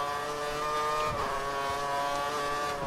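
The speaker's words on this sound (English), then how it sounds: "you have to accelerate very smooth to carry much speed onto the start-finish straight." A Formula 1 car accelerates out of the last corner onto the start-finish straight at Spa-Francorchamps, heard from onboard: a loud, continuous high-pitched engine whine that climbs steadily in pitch, close and dominant throughout.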